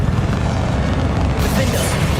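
A Bombarda spell explosion in the video game Hogwarts Legacy, a dense, sustained low boom with rumbling debris noise that swells brighter toward the end, loud and close.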